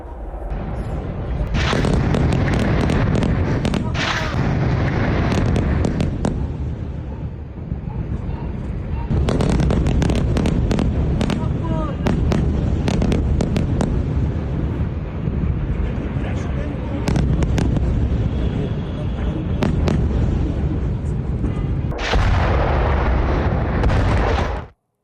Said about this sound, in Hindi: देखिए बेरूत के साथ लगते दाहिया की तस्वीर आपको दिखा रहे हैं, जहां पर भीषण बमबारी की ताजा तस्वीरें आप देख पा रहे हैं।